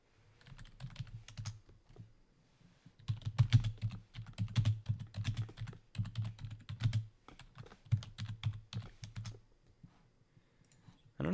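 Keyboard typing during an Old School RuneScape farm run, heard as bursts of rapid key clicks with short pauses between, fairly close and moderately loud, no talking.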